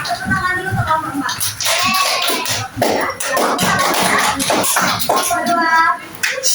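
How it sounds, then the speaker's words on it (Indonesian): A primary school class claps for a group of classmates during a civics lesson. Bursts of clapping and shuffling mix with children's chatter, and a teacher speaks over the noise. "Tepuk tangan dulu ke kelompok 4."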